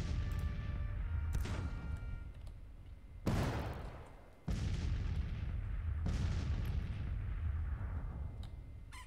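Artillery guns firing in Grand Tactician: The Civil War, a four-gun battery at Vicksburg, heavy booming reports with long rumbling decays, one sharp loud blast mid-way followed by further rolling cannon fire over a constant battle din.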